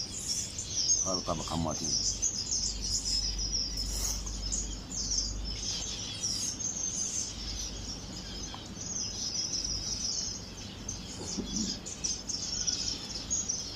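Canaries in an aviary twitter and chirp in quick, bright bursts from close by, while someone speaks briefly over a steady background of small bird calls and faint insect-like hum.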